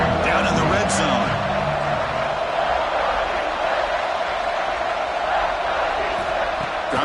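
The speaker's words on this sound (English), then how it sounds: "the crowd coming to life here, trying to help this defense down in the red zone" Football stadium crowd cheering to help the defense in the red zone, a dense, loud, continuous roar with a commentator talking over it.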